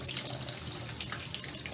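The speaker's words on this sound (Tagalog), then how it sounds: "Patuluan po ng tubig sa inyong gripo at ang pressure po ay unti-unting mawawala." Tap water streams steadily and loudly over a pressure cooker in a sink to release its pressure, a continuous splashing rush with no pauses.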